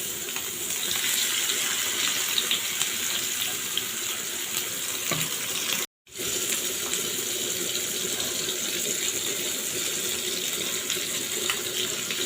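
Small puti fish frying on a tawa pan give a steady, dense sizzle close by, unbroken except for a brief cut near the middle, with no talk.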